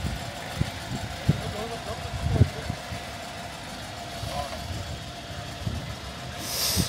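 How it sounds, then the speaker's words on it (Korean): A Mercedes-Benz S500 luxury sedan engine idles with a low, steady rumble, with occasional soft knocks and people talking nearby. "얘도 엔진음이 조금, 이게 S500대는 어쩔 수가 없나 보다"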